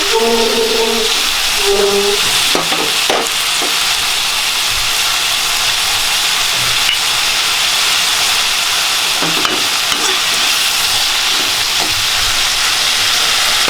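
Onion and tomato sauté in a pan for vallarai chutney, giving a steady, close sizzling hiss that runs the whole time with a few faint clinks and no talking.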